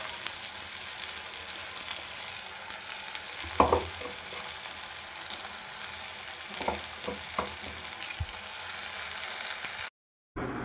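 Ground spice paste for a rohu fish curry sizzles steadily in hot oil, a dense close frying hiss with a few scraping stirs, cutting off briefly near the end.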